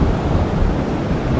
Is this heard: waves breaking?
yes